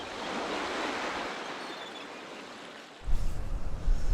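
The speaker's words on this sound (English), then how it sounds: "I'm hoping to get a couple of waves coming through for the last couple of shots before the sun's gone" Ocean waves break on the shore at sunset, giving a broad, steady rushing wash that softens, then a fresh surge with low rumbling from about three seconds. Nearby wind adds to it, with no voices.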